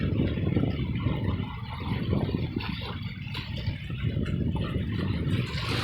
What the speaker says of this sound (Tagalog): Di motor naman pala yung gamit niya.